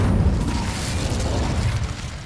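The Incendio fire spell in Hogwarts Legacy erupts as a short, dense whooshing roar with a low rumbling boom, loud and unbroken for a couple of seconds.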